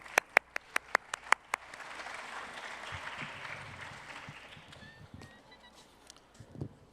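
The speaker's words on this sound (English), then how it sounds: "Please give him a round of applause." Audience applause at a medical center residents' graduation ceremony, a quick burst of several sharp claps followed by a soft, spread-out round of clapping that fades away.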